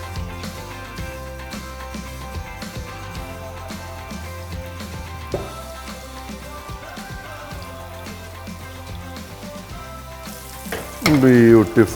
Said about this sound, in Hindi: तो फिर उसको कर लेना फ्राई।